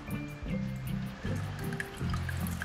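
Rice water trickles and pours through a strainer into a container, a close, gurgling stream that surges in several uneven bursts.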